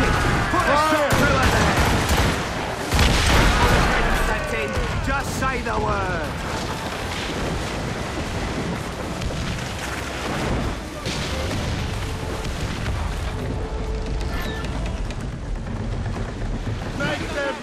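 Naval cannon fire from a sailing warship in Assassin's Creed Rogue, a dense, loud barrage of booming shots and crackling volleys over rushing water, with shouted crew voices mixed in throughout.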